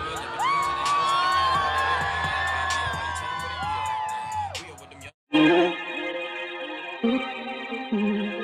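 A large festival crowd at Camp Flog Gnaw 2023 cheers and shouts for a band, a loud, sustained roar of many voices that cuts off briefly and resumes with a bright, layered wash.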